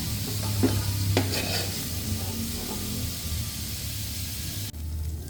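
Pork for menudo frying on high heat in a pan, giving a strong close hiss of sizzling fat with a few knocks of stirring and no talk.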